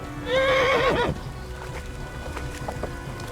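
A horse in the medieval game Kingdom Come: Deliverance lets out a loud, wavering whinny up close, then a quieter patter of hoofbeats as it keeps moving.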